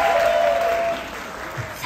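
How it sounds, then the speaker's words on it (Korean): A crowd at the red-carpet VIP premiere of the Korean film 3일의 휴가 in November 2023 claps loudly, the dense applause fading slightly toward the end of the short burst. "더 크게 박수 보내주세요."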